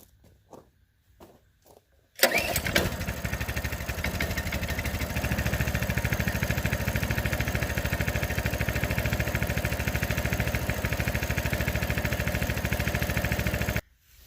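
A Coleman CT200U-EX minibike engine is started with the choke on and then settles into a steady, loud idle nearby, after a few quiet shuffling sounds and a sudden catch, before cutting out near the end.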